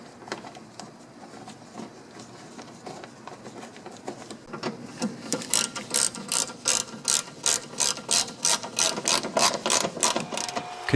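Screws being driven into the front wheel well liner of a 2011-or-later third-generation Ford Focus, heard as a fast, loud run of regular ratcheting clicks that starts after several quieter seconds and continues to the end.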